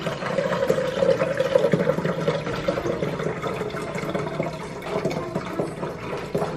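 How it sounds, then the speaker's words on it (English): Homemade carrot, ginger and lemon juice is poured through a strainer in a steady, close liquid stream that splashes and trickles continuously without talk. "And try and pour it again. And just be careful that you're not spilling it."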